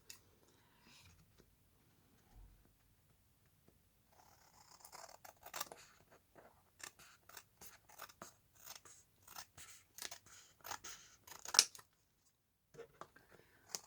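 Scissors cutting a paper window envelope, a quiet close series of crisp snipping and trimming strokes in an uneven rhythm after a near-silent start.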